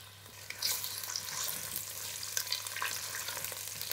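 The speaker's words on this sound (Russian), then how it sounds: "Немного подрумяним овощи на сильном огне." Vegetables browning over high heat in a pot with vegetable and olive oil give a steady, faint sizzle and crackle with small pops, without any talk.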